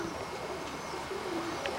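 Roller pigeons coo softly in a loft, low repeated coos under a steady background hum, faint and fairly close.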